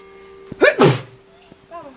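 A single loud sneeze bursts out close by, followed by a brief quiet voice reacting afterward.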